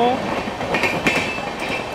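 A Rajdhani Express races alongside a fast local train on the Barddhaman–Howrah chord line, with loud clattering wheels, brief squealing tones and metallic clicks, close and continuous while people talk.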